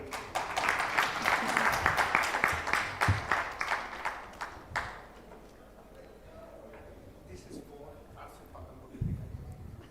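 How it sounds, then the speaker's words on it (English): Conference audience at an Islamic fintech forum clapping, a dense burst of applause that fades out over several seconds, followed by quiet room noise and a few faint later claps. "Please, a big round of applause for Ms. Chrisley."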